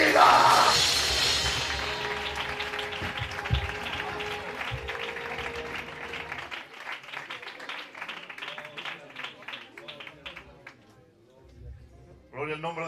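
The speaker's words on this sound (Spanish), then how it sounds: "Fuerte el aplauso." A church congregation bursts into loud applause and cheering that fades gradually over several seconds, leaving scattered claps and murmuring voices, then a brief renewed burst at the end.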